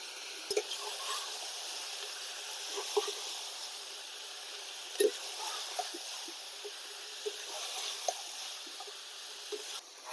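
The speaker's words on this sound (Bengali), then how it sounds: "এখানে আমি আদা রসুনের কাঁচা গন্ধ যাওয়া অবধি ভেজে নিলাম" Ginger and garlic paste sizzling in a pan for a country chicken curry with skin, a steady soft frying hiss with faint scattered pops and stirring clicks throughout.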